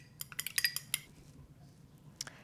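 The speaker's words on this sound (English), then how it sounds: "I'm just gonna beat them slightly with a fork" Milk and two eggs beaten slightly with a fork in a bowl: a quick burst of sharp metal clinks against the dish, then a pause and a couple of fainter taps, close by with no talk.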